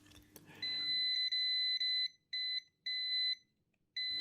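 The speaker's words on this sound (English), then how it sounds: "we'll go to the continuity mode, which is going to beep" A multimeter in continuity mode beeps in a series of sharp, high-pitched tones of varying length, close and clear against near silence, while probing capacitors on a faulty Nintendo Switch board.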